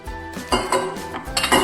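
Coarse wheat flour tipped into a large metal vessel while making churma ladoos, the pan clanking and scraping in several sharp bursts close to the mic, with no talk.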